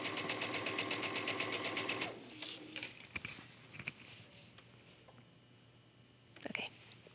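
Sewing machine stitching a princess seam on a trench coat, a rapid even needle rattle for about two seconds that then stops, followed by quiet fabric handling and soft taps.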